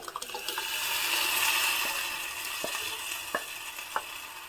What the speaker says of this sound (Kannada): ನಂತರ ಇದಕ್ಕೆ ಬೇಯಿಸ್ಕೊಂಡಿರೋ ಹೆಸರು ಬೇಳೆಯನ್ನು ಹಾಕ್ತಾ ಇದ್ದೀನಿ